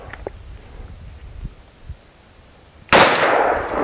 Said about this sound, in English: Glock 20. Glock 20, 135 grain,